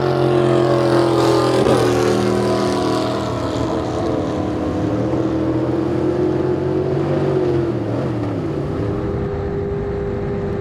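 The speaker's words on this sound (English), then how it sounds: "he keeps his foot planted as Stephen Ford says nope and lifts through this rough section of water" Racing jet boat at the 2019 World Jet Boat Championship powering through a rough river section, a loud, steady engine roar close up with water rushing beneath, the pitch dipping briefly near the end as the throttle eases.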